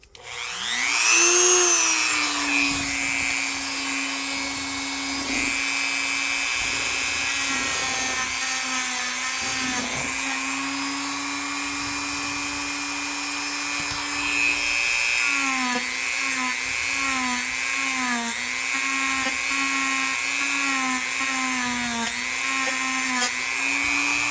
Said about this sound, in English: Let me just show you how this wire brush works.